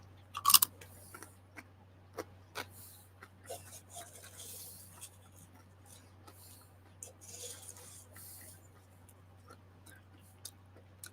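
Barbecue potato chips are munched close to the microphone, with scattered soft crunches and bites spread over several seconds, one sharper crackle near the start, against a low steady hum.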